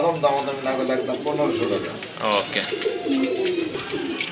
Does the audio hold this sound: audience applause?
no